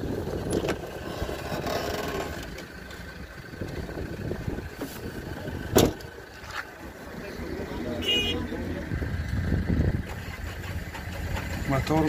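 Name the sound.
Musso diesel car engine idling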